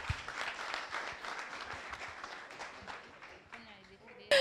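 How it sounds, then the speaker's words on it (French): Applause from the audience at a talent-show finale, brisk clapping for several seconds that thins out toward the end, with voices calling out over it. "on applaudit encore une fois Titi Congo"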